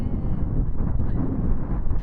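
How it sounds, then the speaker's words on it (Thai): Strong wind at St Andrews harbour buffets the microphone in a steady, loud low roar that fills the whole stretch without letting up. "ฮาร์เบอร์นะคะแล้วลมแรงมาก คือลมแบบโอ้โหสุดยอดเลยอะ"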